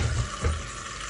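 Running water from a tap splashes steadily as a cow earlobe is rinsed under it, a short close wash with a soft flowing hiss.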